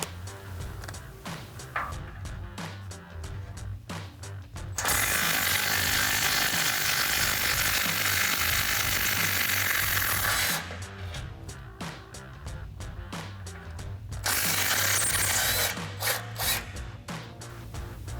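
Rapid mechanical ratcheting of a socket wrench loosening 14 mm factory exhaust bolts on a Toyota Tundra, in quick clicking bursts broken by stretches of a louder, steady whirring tool sound.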